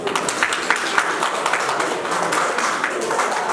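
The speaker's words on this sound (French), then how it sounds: "On peut l'applaudir." An audience applauds a doctor introduced as a speaker at a talk, with dense steady clapping from many hands at moderate distance, holding for a few seconds without voices.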